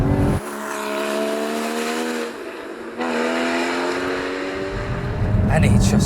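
A Porsche GT car engine revs hard through rising harmonic sweeps, with a brief dip and a sharp rev-matched blip on the downshift before pulling up again, loud and close.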